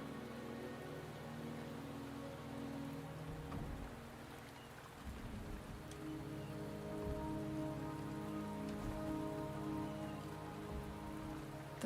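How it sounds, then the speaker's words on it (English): Steady rain falling and pattering on surfaces in the video game Wuthering Waves, a continuous soft wash of drops under a layer of sustained tonal background music, with no voices. "The rain is subsiding, and the sky will soon clear."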